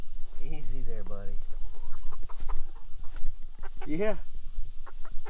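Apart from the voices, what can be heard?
rooster clucking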